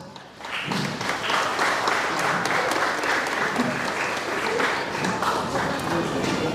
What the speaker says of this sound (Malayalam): അപ്പം എല്ലാവരും നല്ലൊരു കൈയടി കൊടുക്കുക.